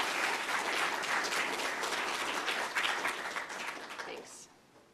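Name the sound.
audience clapping after lecture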